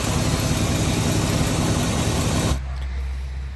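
A 1967 Chevelle engine idling roughly with a flooding carburetor, a loud, dense steady rumble that drops abruptly to a quieter low idle hum partway through, no talking.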